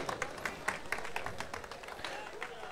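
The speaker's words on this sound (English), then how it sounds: "Give a huge round of applause for Mr. Ravi Kiran from Go Live Studios." Audience applause at an esports prize distribution after a Counter-Strike: Global Offensive final, a fairly quiet patter of scattered claps from a crowd, spread through the hall, with a voice over a loudspeaker faintly present.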